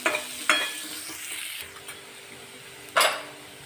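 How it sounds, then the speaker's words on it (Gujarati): Onions sautéing in a pan toward golden brown for a Kathiyawadi-style tempered rotlo, with a steady low sizzle and a few sharp stirring scrapes near the start and end. "સરસ એવી ડુંગળીને આપણે ગોલ્ડન બ્રાઉન કલરે થાય ને ત્યાં સુધી સાતળી લેશું"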